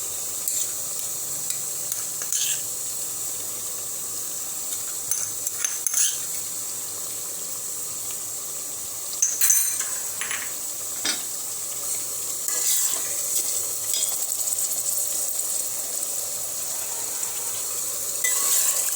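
Ginger garlic paste fries with golden onions and tomato in a hot pan, giving a continuous hissing sizzle with occasional scraping stirs and small clatters, close up and uninterrupted by voices.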